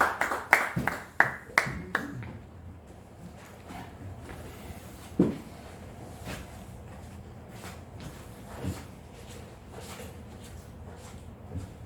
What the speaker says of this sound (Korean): 강충원 목사님 박수로 하나 주세요